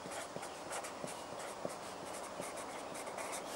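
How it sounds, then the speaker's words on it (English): A pen scratches steadily across a paper frame bag template while the bike model is written on it, a close, continuous scribbling sound with faint strokes over a hissy background and no speech. "Write the bike that you have inside the template."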